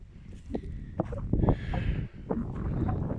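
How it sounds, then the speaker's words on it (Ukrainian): Wind rushes and buffets against the microphone in uneven gusts over a drought-stricken rapeseed field in October, with low rumbling and a few scattered soft knocks. "Трохи вітряно"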